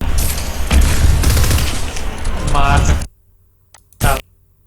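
Gunfire in the video game Fortnite: a dense burst of loud, close shots over several seconds, then near silence broken by one more short sharp crack.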